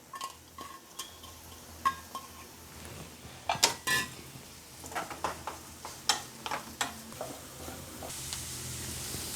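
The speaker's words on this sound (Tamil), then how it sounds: "இப்போ இதை கட் பண்ணி வச்சுருக்க வெங்காயம், ஒரு பச்சை மிளகாய் ரெண்டையும் போட்டு லேசாக வதக்கி எடுத்துக்கலாங்க." Onion and green chili sauté lightly in oil in a pan for an egg omelette, with a faint sizzle under repeated clinks and scrapes of a spoon against the pan, close by and without speech.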